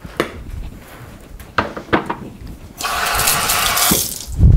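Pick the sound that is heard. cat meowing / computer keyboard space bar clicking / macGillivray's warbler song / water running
water running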